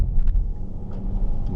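A 2017 Hyundai Kona in Sport mode pulling away hard from a standstill, a loud, steady low engine and road rumble close to the cabin with some wind buffeting, and no talking.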